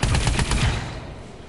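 Rapid automatic gunfire from a video game, a loud close burst of fast repeated shots that trails off into a fading echo, with no talking.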